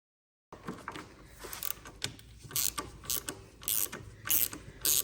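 A hand ratchet with a socket works loose the handlebar bolts on a motorcycle during a handlebar swap, giving quiet, rapid, uneven clicking strokes close by with faint metallic creaks.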